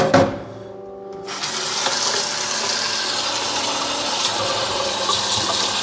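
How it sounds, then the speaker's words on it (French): Tap water runs into a bowl smeared with egg yolk, a short clatter first and then a steady close gushing and splashing that fills the rest, with no voices. "on va rincer ça, mettre de l'eau là-dedans parce que ça colle vite du jaune d'œuf"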